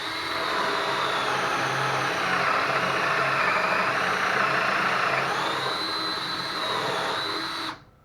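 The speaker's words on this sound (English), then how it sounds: "Now it is all ready to drill." A power drill with a Kreg hinge jig whines steadily at close range for about eight seconds, boring a cabinet door, its pitch dipping slightly under load before it stops abruptly.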